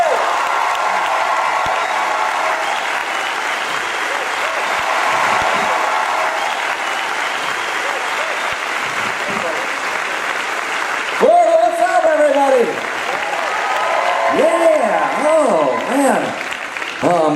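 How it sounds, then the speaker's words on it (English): Audience applause and cheering at a Florida stand-up comedy show as comedian John Crist is welcomed to the stage, a steady roar of clapping that swells near the end while someone talks over it. "So Florida, will you give a great welcome to my buddy, John Crist, everybody."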